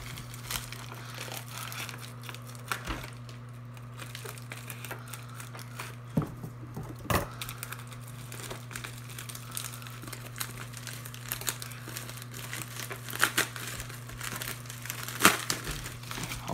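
Crinkling and tearing of packaging as a taped package is opened, soft rustles with occasional sharper crackles over a steady low hum, fairly quiet and close.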